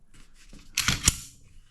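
A single sharp mechanical click from a Canik SFx pistol trigger dry-firing, close and crisp, with faint handling noise around it.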